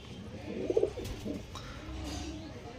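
Pet pigeons coo softly in a short cluster near the middle, faint and close, over a quiet indoor background with no speech.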